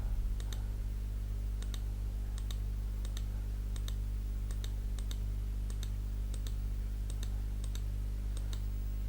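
Computer mouse clicks while working in Photoshop, a string of sharp close clicks, often in quick pairs, spaced across a steady low hum with no talk.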